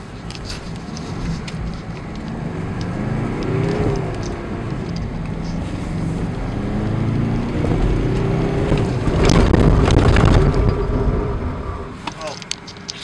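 Tata Hexa SUV accelerating hard in auto mode on a test ride, engine rising in pitch and loudness from inside the cabin with road and wind noise; someone talks over it.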